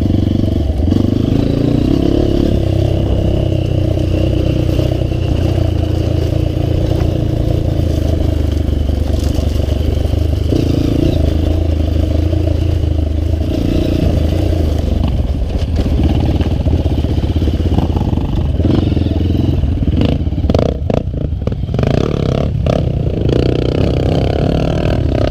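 Motorcycle engine running loud and close for a long stretch, a steady rough drone with clattering and scraping, on a hill circuit at Morro do Jacaré.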